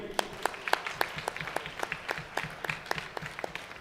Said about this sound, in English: I request the entire audience to give a big round of applause